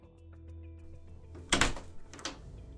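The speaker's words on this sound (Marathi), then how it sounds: "काही वेळातच दरवाजा उघडला गेला" A door is opened, giving a short burst of clattering and rattling around the middle of the clip and a weaker second knock just after, heard against a faint background hum.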